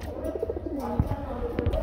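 Soft, low pigeon cooing repeats in short rolling phrases over faint background noise, fairly close, at a pigeon sale.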